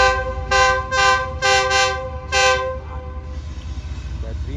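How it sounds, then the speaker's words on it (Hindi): A container train hauled by a GU40 locomotive sounds its horn in several loud, sustained blasts at a level crossing in Sindh, followed by the rumble of the approaching train. "ये बेसिकली कंटेनर ट्रेन है, GU40 के साथ आ रही है"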